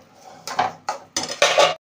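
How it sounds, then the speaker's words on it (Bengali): Sugar and water are stirred in a kadai, giving four short bursts of metal utensil scraping and clanking against the pan, close and fairly loud with brief pauses between strokes. "ভালো করে নেড়ে নেবো নাড়াটা ছাড়বো না ছাড়লে কড়াইতে লেগে যাবে"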